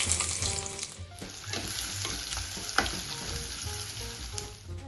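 Onion sizzles in coconut oil in a clay pot after mustard seeds are popped, a loud, close, continuous frying crackle with scattered pops and stirring scrapes.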